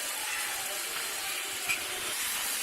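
Vinegar poured into a hot pot to start a chicken karahi on the stove, a steady hissing sizzle throughout the short stretch with no talk.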